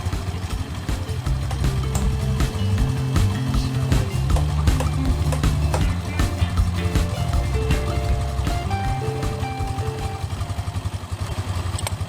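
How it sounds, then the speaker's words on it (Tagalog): A Suzuki Skydrive scooter engine runs nearby with an uneven, throbbing idle, accompanied by occasional clatter and clicks, and nobody speaks. "Start natin yung motor."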